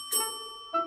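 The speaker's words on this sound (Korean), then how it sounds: "벨이 울리네." A doorbell gives a two-tone ding-dong indoors, loud and clear, the second tone following about half a second after the first.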